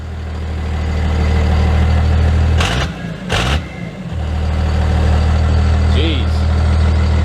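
A 2001 Dodge Cummins diesel pickup rumbling close by at a steady idle, broken by two short sharp blips of the throttle before it settles back into its low, loud drone.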